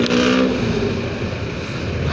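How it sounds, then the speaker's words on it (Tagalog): Road traffic rumbles close by, a steady broadband engine drone with a brief louder rev at the start, heard continuously from amid congested traffic, no talking. "Grabe yung traffic dito."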